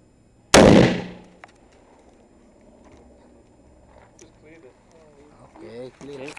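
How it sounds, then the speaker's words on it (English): An M16 rifle fires a single loud, sharp shot into a GAV-PE armor plate at 16 meters, with a fast-decaying crack, followed by quiet and then talking near the end. "This is the GAV-PE plate with the M16 rifle at 16 meter range."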